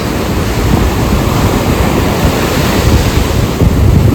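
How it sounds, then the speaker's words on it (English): Atlantic Ocean waves and surf wash steadily and close by, a continuous broadband roar with wind buffeting the microphone throughout and no talking. "Yeah, but I think this is the Atlantic Ocean,"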